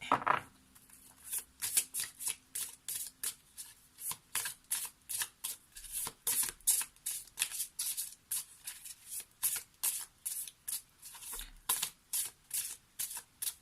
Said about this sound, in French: on va prendre une carte issue de l'oracle des fées